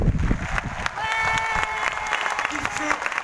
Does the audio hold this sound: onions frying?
no